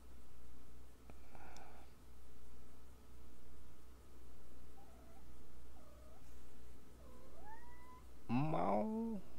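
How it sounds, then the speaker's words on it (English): A cat gives several faint, short meows in the middle, then a louder drawn-out yowl near the end, over a pulsing steady background noise. "Meow."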